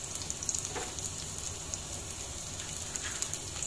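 A spoonful of mustard seeds crackles and sizzles in hot oil for methi amti, a faint, steady frying hiss with scattered small pops.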